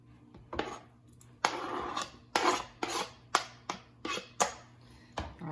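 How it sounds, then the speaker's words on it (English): A utensil scrapes and clinks repeatedly against a pan while a Mexican chicken dish is stirred, sharp irregular knocks and scrapes close by with quiet pauses between them. "I'm just gonna stir"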